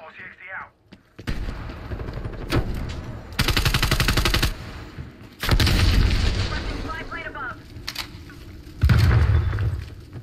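Gunfire and explosive booms from the video game Black Ops Cold War, including a thrown frag grenade, come as several loud bursts spread across the scene, some rapid and rattling, others heavier blasts.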